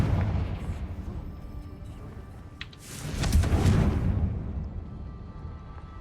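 A blasting spell in a Harry Potter video game bursts into one heavy, booming explosion partway through, rising out of quieter game ambience and rumbling away over about a second.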